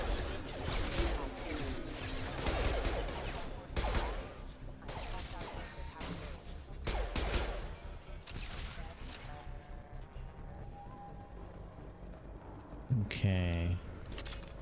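Scattered gunshots and impacts from Mass Effect 2 combat pop at irregular intervals, moderately loud, mixed with game effects and a brief burst of electronic noise near the end.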